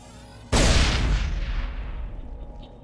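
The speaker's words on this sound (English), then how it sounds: "Obvious explosion is obvious." A loud explosion bursts in a Mass Effect video game, a sudden heavy boom that hits hard and then rolls off into a long, slowly fading rumble with no voices over it.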